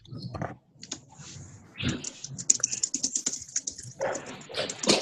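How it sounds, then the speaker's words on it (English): Quick, uneven clacking of keys on a computer keyboard, close and moderately loud, in short irregular bursts with brief pauses and a soft background murmur. "if you are typing on your typewriter, then you are actually making noise"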